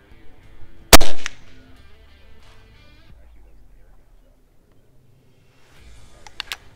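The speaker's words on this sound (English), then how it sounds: "50 yard shot. Let's see where this is going." A single loud, sharp crack from an AEA HP MAX .35 caliber air rifle firing at a 50-yard target outdoors, followed by quiet murmuring and faint background noise, with a couple of small clicks near the end.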